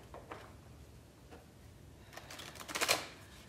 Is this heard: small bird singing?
no